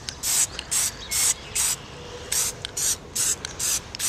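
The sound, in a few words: Plasti Dip spray can spraying a Jeep grill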